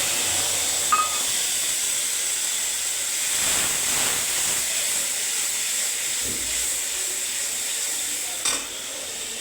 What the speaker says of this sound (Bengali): মশলাটা আমি ঢেলে দিলাম।